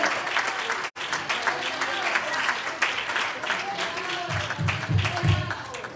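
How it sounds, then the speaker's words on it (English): A church congregation claps along in praise, steady dense applause filling the room alongside voices and shouts, with a rhythmic low thumping joining in near the end. "Will you clap your hands to the Lord?"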